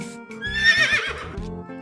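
A horse gives one loud, close whinny that rises and then shakes downward, heard alone.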